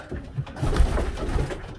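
Pigeons coo inside a breeding loft, close and fairly loud, a short burst of low throaty calls with no talking.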